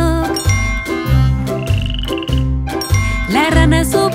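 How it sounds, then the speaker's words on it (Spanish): A cartoon frog croaks within a Spanish children's song, a short croaking figure over a bouncy rhythmic accompaniment with bright tinkling chimes and a rising sweep near the end. "Una rana."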